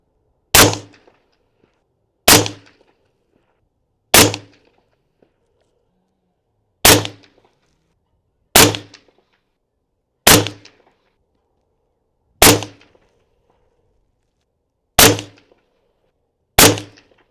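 An accurized AR-15 predator-hunting rifle on a carbon fiber and aluminum bipod fires Black Hills 77 grain rounds downrange. Nine sharp, loud single shots ring out one by one, each about two seconds apart, with short decays and silence between them.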